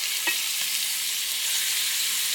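Sliced peppers and onions sizzle steadily in a hot frying pan, a loud, even hiss throughout with a faint clink of a utensil near the start.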